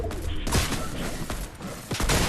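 Gunfire in the video game Fortnite, a busy mix of repeated shots and thuds with game noise, fairly close and steady throughout.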